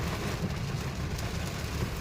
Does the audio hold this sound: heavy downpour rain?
yes